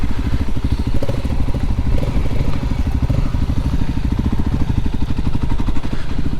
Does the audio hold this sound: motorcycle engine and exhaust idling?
yes